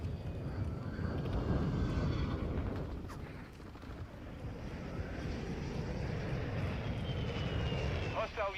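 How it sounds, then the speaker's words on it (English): Call of Duty Modern Warfare II match with a hostile UAV flying overhead, a steady loud aircraft drone under rumbling battle noise and gunfire, with voices and game announcer chatter throughout. "Hostile UAV overhead."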